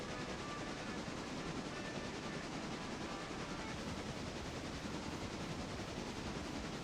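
A train runs in a video game railway, a steady rolling rumble with a faint rapid clatter that holds at low level throughout, with no voices over it.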